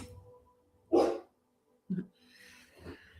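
Two short, muffled dog barks about a second apart, faint and somewhat distant, followed by soft breathy noise in an otherwise quiet room.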